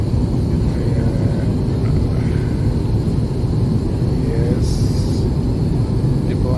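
Loud, steady cabin roar of a passenger airplane climbing after takeoff on a flight in Sri Lanka, a constant low engine and airflow rumble filling the whole stretch with no break.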